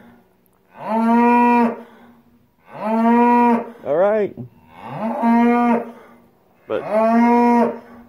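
Several cows moo loudly and close by on a farm, four long drawn-out calls with short pauses between them, and a person briefly speaks near the end.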